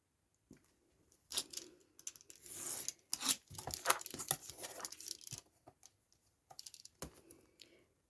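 Paper being cut out with scissors for a Sherlock Holmes themed craft, a series of crisp snips and rustles, quiet and close, coming in irregular bursts with short pauses between.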